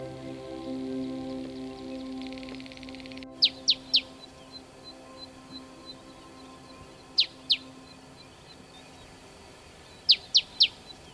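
A wild bird calls close to a vehicle in Addo Elephant National Park, giving short clusters of two or three sharp, high chirps spaced several seconds apart over a faint, steady hum.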